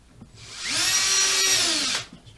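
A power drill drives a hex head screw into timber while an A-frame trestle is built, giving one close, loud whine that rises in pitch, holds steady for over a second, then cuts off.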